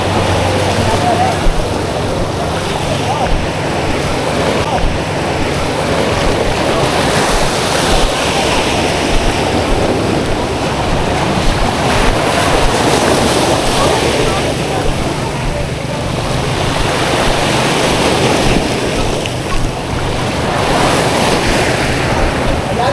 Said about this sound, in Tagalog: Wow, ang laki ng alon.